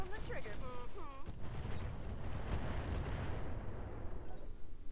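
Streak missiles launching in the Roguetech BattleTech mod, a rapid dense volley of firing bursts under a sustained rumble, with a voice speaking over the opening seconds.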